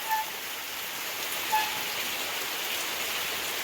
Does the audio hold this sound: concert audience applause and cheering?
no